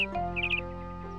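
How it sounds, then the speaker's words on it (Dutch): A cartoon bird chirps in a children's animation, a few quick bright high tweets in a short burst over a steady music-like tonal background, fairly close and clear. "Nijntje luistert en hoort een vogel chirpen."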